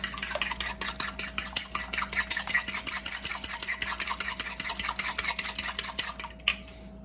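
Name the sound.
scrambling eggs in bubbling butter on an iron skillet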